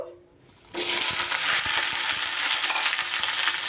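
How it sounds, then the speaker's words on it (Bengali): Okra sizzles loudly in hot rice bran oil as it is stirred. A quiet start gives way to a sudden, steady frying hiss close by, with faint scrapes of stirring underneath. "খুব মচমচে করে ভাজার দরকার নেই, একটু কাঁচা গন্ধটা যাতে চলে যায় সেইভাবে একটু নাড়াচাড়া করে ভেজে নেব"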